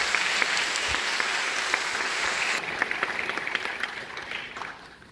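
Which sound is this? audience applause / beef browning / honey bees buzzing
audience applause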